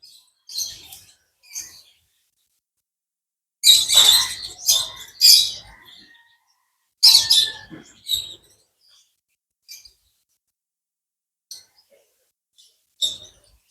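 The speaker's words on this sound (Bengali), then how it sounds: "একটা বাসা বাড়িতে অনেকগুলো পাখি।" Many caged birds chirp and tweet indoors in a house, sharp high calls coming in clustered bursts separated by short quiet gaps, fairly close and clear with no talking.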